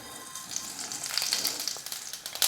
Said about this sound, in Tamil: இப்போ கடுகு சேர்த்துக்கிறேன்.